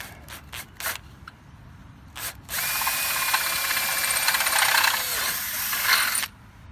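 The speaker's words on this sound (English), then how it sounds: "Drill our first hole." Power drill boring a hole to mount a clothesline bracket clamped to the arm: a few short clicks and taps, then a loud, steady whining drill run of about four seconds that stops abruptly, close up with no talking.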